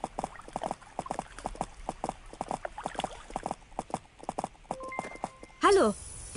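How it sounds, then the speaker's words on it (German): Horse hooves clip-clop in a quick, even rhythm while riding in the video game Lissy, a steady series of close, crisp knocks, ending with a short whinny. "dann reiten wir mal zum Fischer"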